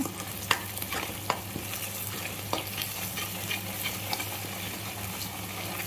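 Chicken curry masala for nattu kodi pulusu frying in a pan, a loud continuous sizzle broken by repeated scraping stirs and spatula knocks against the pan; no voices.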